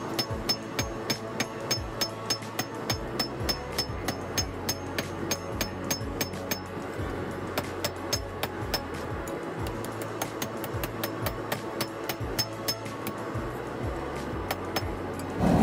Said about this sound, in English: for this heat, we are just going to be hammering this down